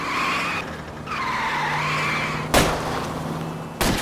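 Tires squeal in a long wavering skid during a car chase in L.A. Noire, over a steady engine drone, broken by two sharp impact bangs.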